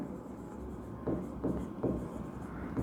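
Chalk or marker scratching on a classroom board during a physics lesson, several soft strokes in quick succession, faint against a quiet room hum.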